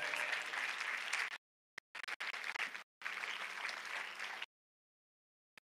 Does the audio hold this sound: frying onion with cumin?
no